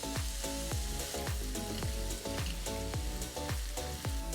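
Carrots sizzle and fry steadily in a hot pan with shallots and tarragon, a dense continuous crackle with regular stirring scrapes about every half second, loud and close, no talking.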